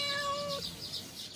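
A cat meows once in a clear drawn-out call outdoors during open-air cooking, followed by quieter background noise.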